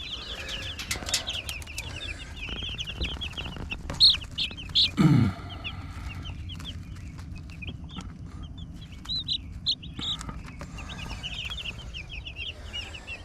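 Chicks on a homestead chirp steadily in rapid high peeps, with some wing flapping and a louder bird call in the middle, with outdoor background noise.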